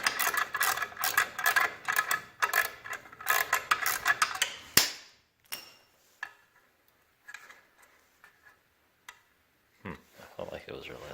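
A hand ratchet loosens a bolt on a Harley-Davidson motorcycle during a spark plug and coil wire change: a close, steady burst of rapid clicking for about five seconds, then scattered single clicks, with someone speaking.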